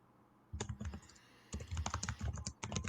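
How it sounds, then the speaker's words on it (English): Laptop keyboard typing, close and clear: irregular bursts of quick clattering keystrokes with a short pause in between, no speech. "we generally hear your typing anyways"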